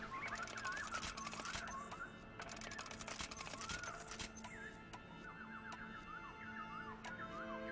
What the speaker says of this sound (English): A loud ass bird.